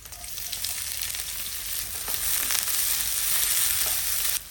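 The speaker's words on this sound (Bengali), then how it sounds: "কড়াইতে অল্প একটু তেল দিতে হবে বেশি না কারণ তেল অলরেডি স্কুইডের ইয়েতে আছে সাথে দিয়ে দিচ্ছি এক পিস রসুন কুচি আর কয়েক পিস পেঁয়াজ কুচি" Chopped garlic and onion fry in a little oil in a wok, giving a loud, steady, close hiss of sizzling that holds evenly before cutting off abruptly near the end.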